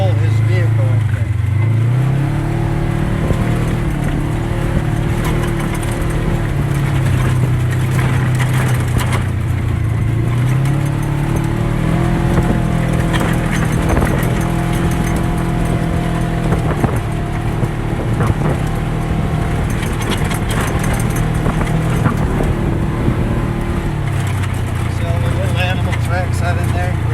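A UTV engine drones steadily while driving an off-road trail near Moab, its pitch rising and falling with throttle as the vehicle drifts, heard close and continuous under talk.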